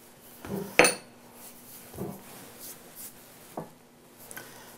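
A bench knife cuts through a square of rolled breadstick dough on a kitchen counter, giving a few sharp knocks and scrapes against the board, one louder chop among softer taps, with no talking.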